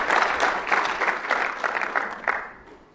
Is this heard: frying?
no